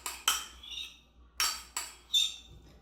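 A utensil scrapes and clinks against a bowl while egg salad is mixed with onion powder, dill, salt and pepper, in four or five sharp, close bursts separated by quiet gaps.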